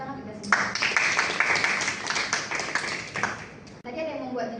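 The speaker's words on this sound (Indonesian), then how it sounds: "Tepuk tangan kita semua." A small classroom group claps together for a few seconds, brisk overlapping hand claps at close range that end abruptly, followed by a voice starting to speak.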